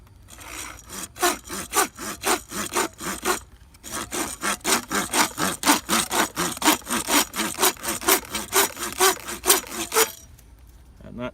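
A Kobalt folding saw cuts through plastic with rapid, rhythmic back-and-forth rasping strokes, loud and close, with a brief pause early on before the steady strokes resume and then stop.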